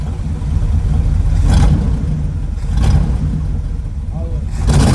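The 350 engine in a Chevelle convertible idles with a deep, close rumble and swells through a few revs in succession, while people talk over it.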